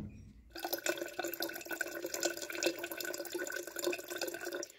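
Water drains steadily from a camper fridge through a small pipe, a continuous close trickle and splash that starts abruptly and runs evenly without pause.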